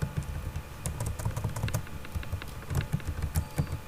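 Rapid, uneven keystrokes on a computer keyboard while someone writes Java array code, clicking steadily and fairly close, with no talking over them.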